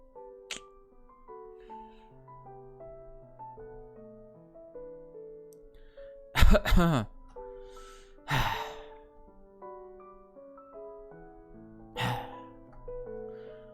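A character in the video game ENIGMA coughs in three harsh, breathy bursts, the first a double fit, close and loud over soft, gentle piano-like music.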